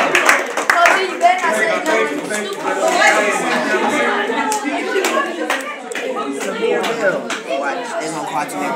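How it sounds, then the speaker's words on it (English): A room at a middle school varsity and junior varsity sports banquet claps for the team. Steady, close clapping continues throughout, mixed with lively chatter and voices. "So give them a round of applause."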